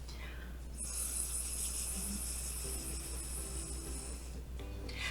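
Someone blows a long, steady breath across wet paint on paper to spread splat bug shapes, a close, airy hiss lasting a few seconds before trailing off.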